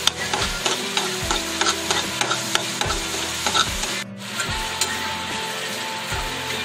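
Grated coconut roasting in ghee in a pan for modak filling, a steady soft sizzle with repeated scraping stirs of a spatula at a regular rhythm, close and fairly loud, no talking.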